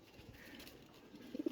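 Pigeons cooing softly nearby, a couple of low throaty coos rising at the end of a brief, quiet stretch of room noise.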